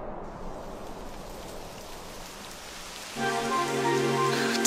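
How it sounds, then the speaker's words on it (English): Steady rain patters down in a video game, a dense, even hiss that swells louder partway through as a faint tonal hum rises beneath it. "It would have to go and start raining, wouldn't it?"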